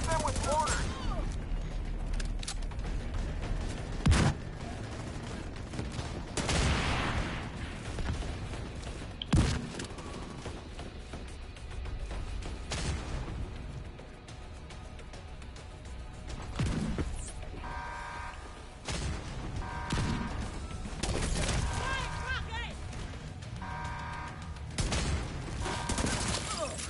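Dense gunfire crackles through a war video game battle, with repeated sharp shots, bursts and heavier booms like mortar impacts, and voices talking over the combat now and then.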